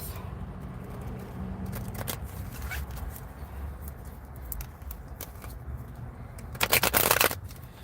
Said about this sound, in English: Real quick while we shuffle these cards.